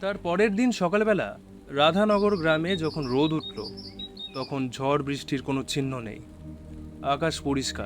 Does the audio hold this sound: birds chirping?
yes